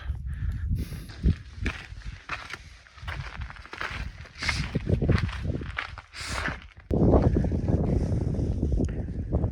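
Cold, breezy night wind on a hike toward Mount Whitney buffets the microphone in loud, uneven gusts, mixed with crunching footsteps on the trail.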